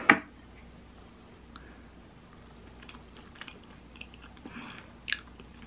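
Roasted sweet potato being chewed close up, soft crunchy bites opening the stretch and a few quieter mouth sounds and small clicks spread through a mostly quiet background.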